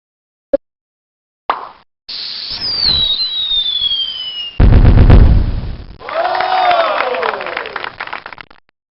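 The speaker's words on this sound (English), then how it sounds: "You're making beautiful fireworks!" Cartoon fireworks launching and bursting in the Mighty Math Number Heroes computer game: a short click and blip, then a rising whistle, a loud booming burst and crackling sparkle with descending chirps.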